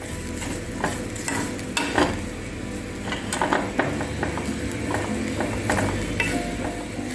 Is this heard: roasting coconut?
yes